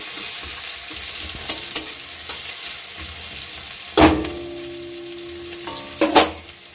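Chopped onion and garlic paste fry in oil, giving a crackling sizzle close up, broken by several sharp scrapes and clanks of a spatula against the pan.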